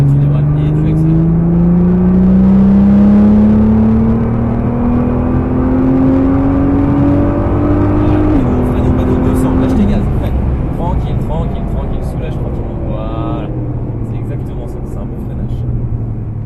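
A Nissan GTR accelerates on a hot race track, its engine note climbing steadily in pitch through a long pull before a brief shift and further rising revs, loud and close with someone talking over it.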